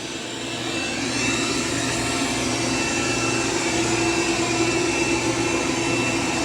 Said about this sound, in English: It's doing a pretty good job of vacuuming.